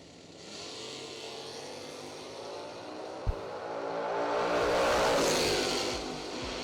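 Drag race cars, one of them a Mustang, launch at a million-dollar drag racing event, their engines rising into a loud, roaring acceleration with a sharp crack partway through.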